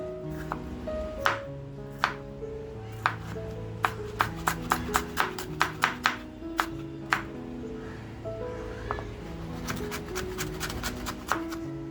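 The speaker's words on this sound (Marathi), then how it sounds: "तसंच आपण आहे ना टॅमॅटो सुद्धा कापून घेऊया" Knife chopping tomatoes on a cutting board for a shimpli kaju masala, with sharp, irregular taps, sometimes in quick bursts and sometimes spaced apart, over a steady low background hum.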